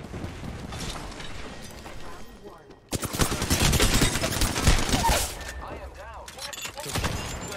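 Video game gunfire erupts in dense bursts of rapid shots, loud and close, alternating with calmer stretches and louder volleys; a voice speaks over parts of the battle.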